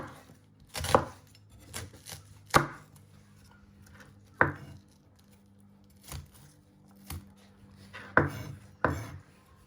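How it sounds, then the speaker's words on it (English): A knife cuts cooked food into pieces on a board for a Spanish tortilla with chorizo, garlic and pepper: sharp, separate thuds spaced irregularly about a second apart, close and clear with no talking. "And then you just want to chop it into pieces."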